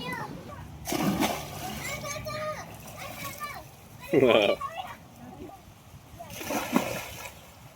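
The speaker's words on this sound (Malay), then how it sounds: "Orang mandi kolam tu." People bathe in a swimming pool at a Kuala Terengganu chalet, with several bursts of splashing water amid children's voices and chatter nearby.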